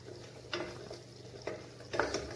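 Red chili powder being stirred into a pot of South Indian sambar, giving three soft scraping strokes of a spoon against the pot over a low simmering background.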